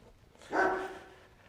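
A single short dog bark sounds at moderate distance, brief and clear against a quiet outdoor background.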